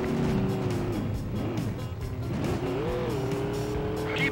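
In a Stuntman car chase on PS2, an engine drones and revs continuously, with pitch swooping up and down as tires squeal through turns, loud and constant throughout.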